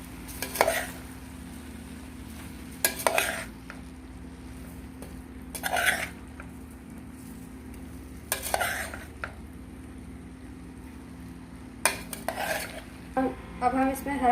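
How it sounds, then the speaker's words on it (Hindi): Macaroni is mixed in a pan with a utensil, giving repeated scraping, clattering stirs in separate bursts every few seconds over a steady low hum, close and clear, with no talking. "अब इसको अच्छी तरह से हम करेंगे मिक्स।"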